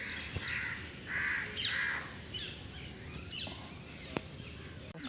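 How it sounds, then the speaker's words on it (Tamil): Several birds call outdoors, with harsh crow caws and scattered chirps near and far over a quiet open-air background, and no one speaking. "பறவைகள் சத்தம் மட்டும்தான் இருக்குது வேறு எந்த சத்தமும் இல்லை"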